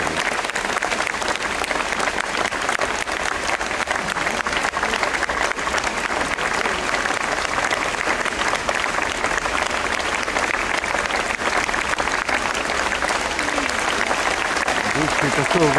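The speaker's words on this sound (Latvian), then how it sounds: "Aplausi Jānim Pedram." Concert audience applauds steadily throughout at an outdoor Riga city festival concert in 2014, a dense, sustained wash of clapping with a few faint voices mixed in.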